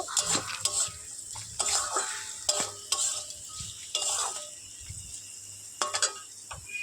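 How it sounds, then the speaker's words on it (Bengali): Potatoes sizzle steadily in a hot pan while a utensil stirs and scrapes against the metal in repeated bursts. "আলুটাকে এবার ভালো করে ভাজা ভাজা করবো"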